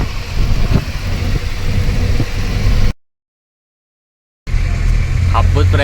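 Steady road and engine rumble from inside a car driving on a highway out of Haveri, broken by a few seconds of total silence, with voices talking over the drone near the end.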